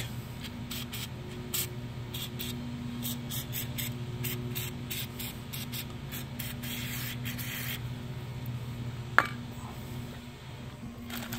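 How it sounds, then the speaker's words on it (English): Short bursts of white lithium grease spray hiss in quick irregular pulses over a low steady hum during rear brake pad and rotor replacement on a Kia Soul, with one sharp click near the end. "I'm going to spray a little white lithium around this."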